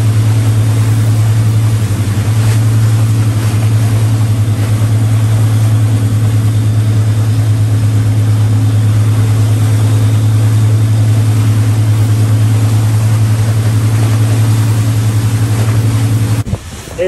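A pontoon boat motor running at speed while hydrofoiling downwind from the Bahamas toward the USA, giving a loud steady drone with wind and water rush that cuts off abruptly at the end.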